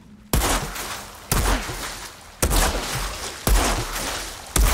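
Four sharp, loud gunshot bursts at roughly one-second intervals, each with a brief decaying tail, with synthetic game-like punch and no voices, from the video game Outriders.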